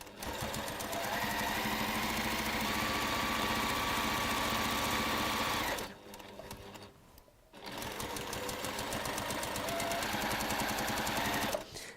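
A sewing machine runs steadily through fabric in a loud, continuous mechanical whir, pausing briefly in the middle before resuming at the same pace.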